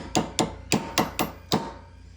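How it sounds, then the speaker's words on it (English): A small hammer taps a snap set six times on a snap flex plate, sharp close knocks at a steady, slightly uneven rhythm, each ringing briefly before the next, then quiet. "I've got my trusty little hammer here, and we're going to tap that down about 2 or 3 times"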